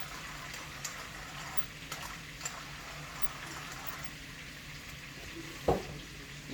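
Steaks seasoned with salt and pepper sizzle on an outdoor grill on a farm deck, a steady, faint hiss with an occasional sharper pop, heard alone.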